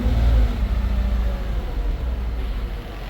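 A 2011 Ford Escape engine, warmed up and suspected of worn rod bearings, revs up close with a steady droning rumble that rises briefly, then settles back to idle.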